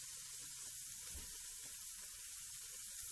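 Chopped onions sizzling in hot ghee in a pan, a steady bright crackling hiss throughout with a soft low thud near the middle.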